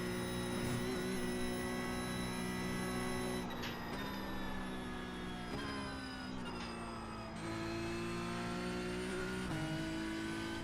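Porsche Cup race car in the iRacing sim at VIR, its engine droning steadily and close throughout, pitch climbing and dropping sharply at several gear shifts, with no talk over it.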